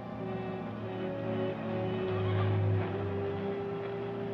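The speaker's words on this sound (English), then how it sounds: "There's a horse coming up." A horse whinnies over a steady hum of background noise in the 1950 film The Sundowners, set in the Australian outback, the call rising and swelling midway, moderately loud and not far off.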